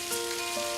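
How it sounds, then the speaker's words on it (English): Heavy rain pouring outdoors in Korea on a hiking day, a steady dense hiss of drops hitting surfaces, fairly close and continuous with no talk. "The rain has started to fall pretty heavily right now"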